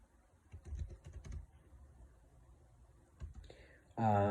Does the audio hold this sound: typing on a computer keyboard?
yes